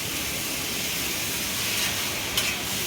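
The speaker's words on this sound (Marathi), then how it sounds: "सर्व चांगलं मिक्स करून घ्यायचं." Dal khichdi in a pot gives off a steady close hiss and soft sizzle as it is stirred, with a faint scrape near the end and no voices.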